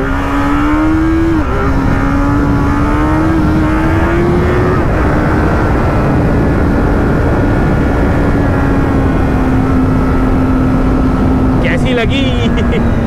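A sport motorcycle, an MV Agusta F3 or Kawasaki Z800, doing a controlled wheelie: a loud, steady high-revving engine drone with a slowly shifting pitch. Someone speaks briefly over it.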